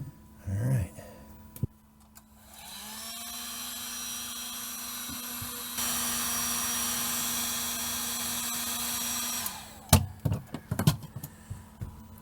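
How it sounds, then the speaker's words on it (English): A heat gun blows with a steady whirring hum for several seconds while shrinking heat shrink tubing over a wire crimp during RV battery wiring on a Winnebago Micro Minnie. Clicks and handling noises come before and after. "I think the heat shrinking has to be one of the most satisfying things in the world"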